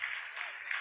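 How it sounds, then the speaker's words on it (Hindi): Scientists applaud in a mission control room after the Chandrayaan-3 second descent phase, a steady, fairly faint wash of clapping filling the short moment without pause. "आप इस तालियों की गड़गड़ाहट को सुन सकते हैं"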